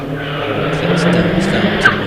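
A 2.5 litre turbo hillclimb race car with a TD05 hybrid turbo, uprated suspension and bigger brakes running at speed on a British hillclimb course, a steady mid-distance engine drone with brief tire squeals.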